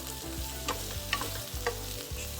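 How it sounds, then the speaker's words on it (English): Korean zucchini sautéing in a pan gives a steady close sizzle, broken by a few soft scrapes and clicks of stirring, with a low continuous hum underneath. "We're going to saute this."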